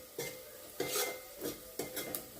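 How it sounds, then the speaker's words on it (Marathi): Finely chopped onion fries in a handi over a soft sizzle, with about five distinct metal scrapes and clinks as a spoon stirs the pot at close range. "आता तो कांदा फ्राय करते मी"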